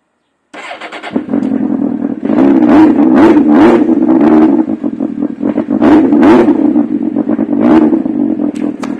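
A 1998 Suzuki GSX-R 600 SRAD motorcycle engine starts and idles, then revs repeatedly in short throttle blips over a steady engine drone, loud and close, with no talk.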